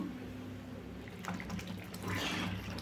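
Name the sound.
wheat rava upma boiling in covered pan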